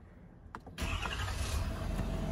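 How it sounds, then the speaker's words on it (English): A turbo diesel truck engine cranks briefly, then fires up and settles into a loud, rumbling idle, close by. "Let me start it, and then you'll know which one I got based on the engine."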